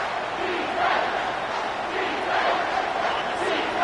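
A college football stadium crowd roars loudly and continuously at Florida State versus Clemson, a dense wall of cheering and yelling that surges in waves.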